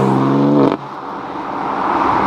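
A BMW M4 fitted with an Akrapovic exhaust, floored at low RPM, gives a loud, close, throaty engine roar that cuts off abruptly after a moment and leaves a broad rushing drone.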